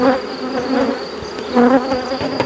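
Honeybees buzz steadily around an apiary of eleven beehives, a dense, close drone with swelling and fading layers of wingbeats and no voices.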